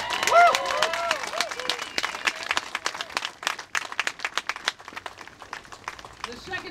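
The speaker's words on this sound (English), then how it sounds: "Let's give them a round of applause" Crowd at an outdoor political rally applauding veterans, scattered claps and cheers swelling then thinning into irregular individual claps, following a voice and some background chatter.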